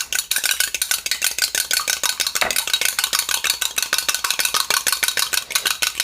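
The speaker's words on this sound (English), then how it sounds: "So you're gonna take the egg," Egg beaten briskly in a bowl for baked macaroni, a fast steady whisking rattle of utensil against dish, close and continuous without talk.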